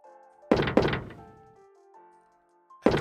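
Rocket launcher fired in a video game: two heavy back-to-back thumping blasts, a short tonal ringing tail, then a third blast at the end, loud and close with no talk.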